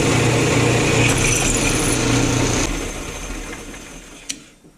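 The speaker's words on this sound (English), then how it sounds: "I'm drilling the holes closer to the top because I want to have some beef there." A power drill whines steadily while boring holes in metal cabinet brackets, its pitch shifting slightly under load before it winds down and fades, followed by a faint click.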